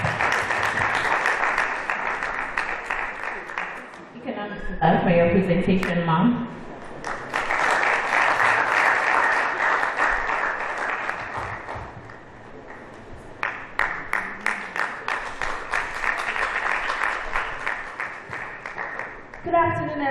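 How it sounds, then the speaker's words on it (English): An audience at a conference claps in a few bursts, loud crowd applause alternating with someone speaking over a microphone, the clapping fading and returning in waves. "Please, let's clap for her."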